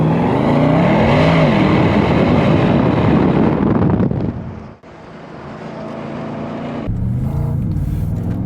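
A 2021 Porsche Panamera Turbo S pulls out onto a main road, its engine surging loudly with rising revs, then easing off briefly before picking up again with a lighter, steadier drone.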